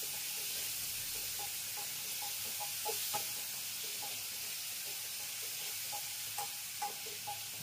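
Prawns frying in a pan with salt and turmeric, a steady close hiss of sizzling oil with soft scattered pops and light stirring, no voices.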